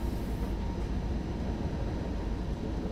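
Trains rumbling past on a line in the Train Sim World 3 railway simulator, a steady dense low roar with rolling wheel noise filling the whole moment, no talking over it.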